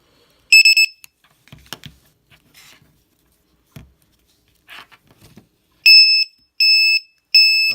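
An ISDT BC-8S battery checker sounds its low-voltage alarm, with one loud, high-pitched beep near the start and then three sharp beeps in a steady rhythm at the end. Faint handling noises fill the quiet gap between them.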